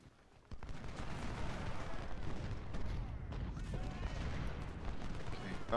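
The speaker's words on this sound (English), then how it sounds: "now this cannon's fired" Cannon fire in the Civil War strategy game Ultimate General: Civil War, a low booming blast that starts abruptly and holds as a dense rumble of battle noise, with a faint voice now and then.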